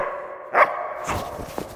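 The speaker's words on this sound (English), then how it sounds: "Love this dog's bark and hold." A German Shepherd gives a single loud, close bark during a bark-and-hold protection exercise, followed by softer yips and shuffling.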